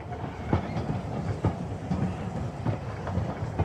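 A train rolls along railway tracks, steady rumble with repeated clickety-clack wheel beats at intervals, fairly close and continuous, no talking.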